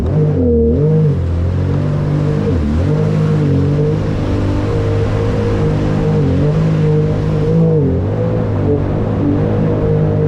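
A Sea-Doo Spark Trixx jet ski fitted with a Wet Jet Performance 12/14 impeller revs hard, its engine note rising and dipping in repeated surges, loud, close and continuous with no voices.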